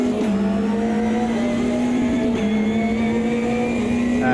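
Race car engine in the Automobilista 2 racing game, a car of about 370 brake horsepower holding a loud, steady droning tone that dips briefly twice as the revs shift, with no talk.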